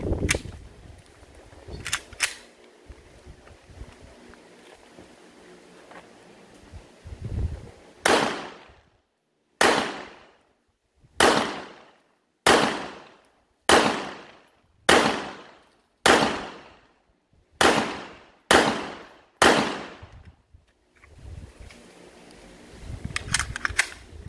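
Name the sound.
CZ P09 9mm pistol firing ten shots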